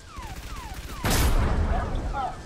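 Explosions and gunfire in Halo 3: ODST: a few sweeping tonal blips lead into a sudden heavy blast, followed by a rumbling, crackling burst of fire that slowly fades.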